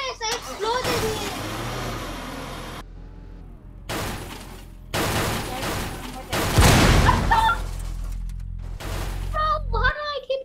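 Explosions and gunfire in a video game, a dense run of booms and shattering bursts over a rumbling low end, loud and close, with excited children talking and shouting over the action.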